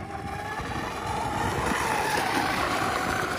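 A Blackjack 42 RC boat motor runs at about three-quarter throttle, a steady buzzing whine with a broad rush of water noise, holding constant and slightly louder toward the end, with no talking.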